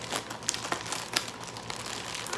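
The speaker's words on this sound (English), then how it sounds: "So I'm trying to get the tape off." Tape is pulled off a plastic shipping bag, producing close crinkling and rustling with a couple of sharper crackles, fairly quiet and with no talking.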